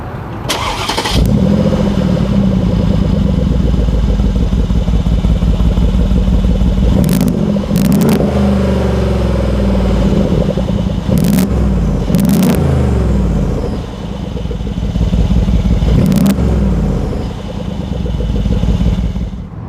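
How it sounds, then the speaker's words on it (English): A 2015 Mercedes-AMG G63's V8 engine with side exhaust starts up and rumbles loudly, with deep throaty revs and a few sharp blips of the throttle over a steady, powerful idle. "Talking about the exhaust, let's take a listen and see how that sounds."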